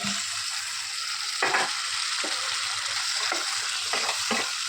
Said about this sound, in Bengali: এর মধ্যে পটলটা আলুটা দিয়ে কষিয়ে নেবো